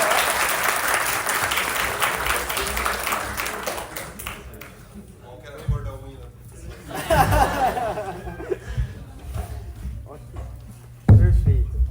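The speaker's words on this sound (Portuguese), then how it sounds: "Palmas!" Studio audience breaks into loud applause at a Brazilian quiz-style civil engineering show, dense clapping that thins out, followed by scattered chuckles, talk and a brief renewed burst of claps near the end.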